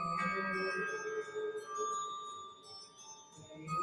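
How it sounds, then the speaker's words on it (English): A recording of the Christmas song Carol of the Bells plays quietly, with ringing, bell-like sustained tones that shift pitch over a soft background. "it is Carol of the Bells, one of all-time favorite Christmas songs"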